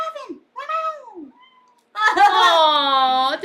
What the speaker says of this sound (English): Yes, I love his little meow.